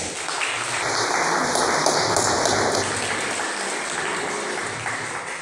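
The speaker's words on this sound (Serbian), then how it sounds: "Jedan aplauz za Svetu, molim vas." Steady, loud applause from an audience at an award ceremony for the winners of a poetry competition, continuous broad clapping that lasts the whole stretch with no voices over it.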